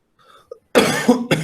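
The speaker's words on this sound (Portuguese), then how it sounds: "desculpa, pessoal, pela tosse" A person coughs close by during a sociology lesson, with a sharp, loud cough followed by a second short burst after a brief pause.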